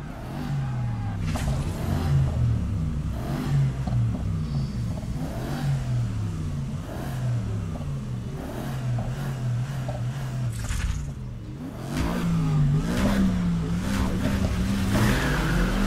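Engines revving at the start of a night race in Need for Speed Heat on PS4 Pro, with loud, steady, close car engine roar and repeated pitch swells as gears change, no talk.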